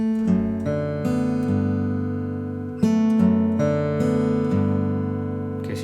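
Fingerstyle acoustic guitar playing a section of Raglan Road, with plucked notes and a repeated bass note ringing out in a slow, even rhythm, close and clear with no talking.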